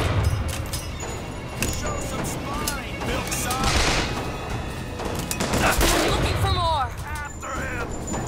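Gunfire in the video game Bioshock Infinite: bursts of shots and booming blasts crack repeatedly over a noisy rumble, with a voice and other voices talking in between.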